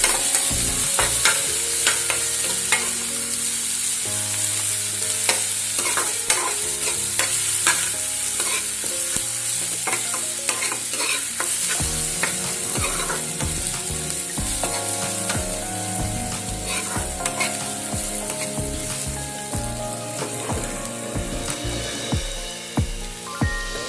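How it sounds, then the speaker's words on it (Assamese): Ginger and garlic frying with browned onions in a pan, a loud continuous sizzle broken by repeated sharp scrapes and knocks of a spatula stirring throughout, with no talking. "আদা নহৰু কেঁচা গোন্ধটো যোৱালৈকে অলপ ভাজি ল'ম"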